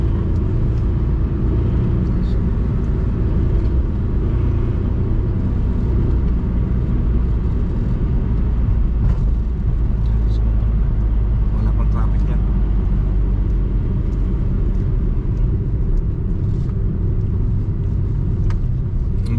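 A 400cc scooter running with no exhaust muffler, a loud, constant low rumble that holds steady throughout, with voices talking over the engine drone.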